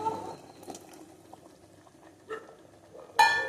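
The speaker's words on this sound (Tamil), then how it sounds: "இப்போ நான் புளி கரைச்சலை ஆட் பண்ணிக்கிறேன்" Tamarind water poured into a simmering curry: soft, quiet liquid pouring and bubbling with a few brief splashy bursts, the last one the loudest, and no talking.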